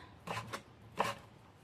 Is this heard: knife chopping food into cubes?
yes